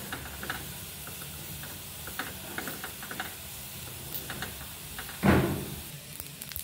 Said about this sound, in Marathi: आपण आता तीळ आणि खसखस पण भाजून घेतोय.